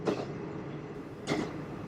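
Inside an express train on a non-electrified rural line in Japan, a steady low rumble of the diesel carriage fills the space, with two brief louder surges of rattling wheel and track noise. No voices.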